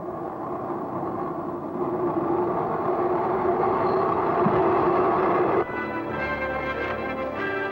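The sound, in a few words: train arriving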